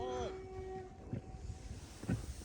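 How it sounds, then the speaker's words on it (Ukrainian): A passing vehicle sounds a horn in a short tonal blast near the start, then fades into faint background noise beside a river during a zander fishing outing. "О, а це мені сигналять привіт."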